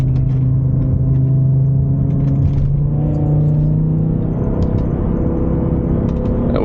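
BMW E60 M5 with its V10 engine, heard from inside while driving: a loud, steady droning engine tone that shifts pitch as revs change, with road rumble underneath.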